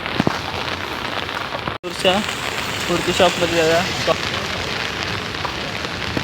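Rain patters steadily on the street outside Mumbai Ganesh idol workshops, a constant wash of sound under a man's close speech.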